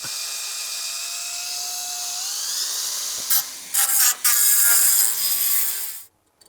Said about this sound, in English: I'm getting ready to drill the stud out